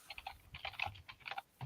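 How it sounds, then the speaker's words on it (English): Rapid bursts of clattering keystrokes on a computer keyboard, close and fairly loud, in uneven clusters with short pauses, no talk. "Loud typing noises."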